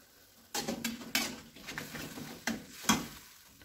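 Pak choy stir-fried with meatball seasoning, garlic and chili simmers in a pan with a little added water, giving a soft bubbling sizzle under several sharp clinks and scrapes of a utensil, with no talk.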